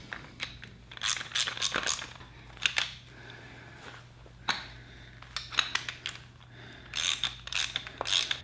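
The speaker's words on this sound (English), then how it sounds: "I'm gonna tighten these down enough to get them on there" Bolts are tightened on a Ducati Monster 1100 during a wrecked-bike rebuild, heard as short bursts of sharp metallic ratchet clicks with quiet pauses between, close and fairly loud.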